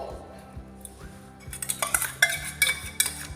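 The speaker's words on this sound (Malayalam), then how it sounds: "ഇത് നന്നായിട്ടൊന്ന് ഇളക്കി കൊടുക്കുക" Appam batter being stirred in a bowl gives soft rhythmic scraping, then a run of sharper clinks and taps of a utensil against the bowl in the second half, close and fairly quiet.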